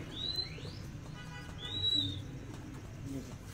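Pigeons kept on a rooftop for the hobby of pigeon flying give soft low coos, with two brief higher whistling calls rising over a quiet, murmuring background.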